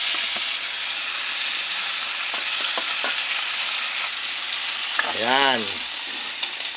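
Chicken liver and gizzard fry in a pan with garlic and onion, a steady close sizzle with stirring scrapes, plus a brief word spoken over it.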